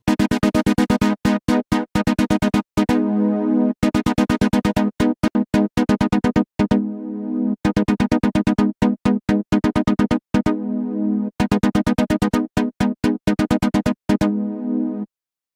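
Sawtooth patch on the SurgeXT synth with three-voice unison and a 12 dB low-pass filter whose envelope opens on the attack, playing a loud, repeating house-style stab pattern of short plucky chords and brief sustained notes, no voices.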